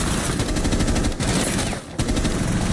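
Sustained automatic weapon fire in Rainbow Six Siege, loud and close, with rapid rattling bursts that barely pause for the whole stretch.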